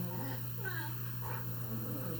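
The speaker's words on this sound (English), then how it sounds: "my dog's making funny noises in the background." A pet dog makes odd whiny, squeaky vocal noises in the background of a quiet indoor room, faint and intermittent beneath a steady low hum, while a person talks.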